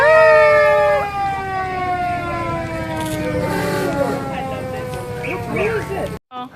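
An emergency siren wails in long, falling and rising tones, loud and nearby, as highway traffic rumbles along and voices talk faintly underneath.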